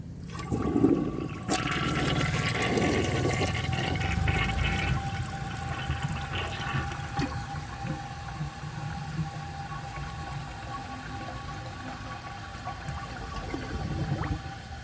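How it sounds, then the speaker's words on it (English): A 1981 Briggs Conserver concealed jet toilet, running water-starved, flushes with a loud rushing swirl that gradually settles into a long, quieter trickle and refill hiss. "So I'm going to do another flush and see if it can get rid of that."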